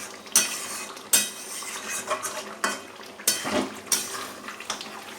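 A spoon scrapes and clanks against a pot of simmering mutton curry in a series of sharp metallic strokes over a low bubbling sizzle, close and fairly loud, no talking.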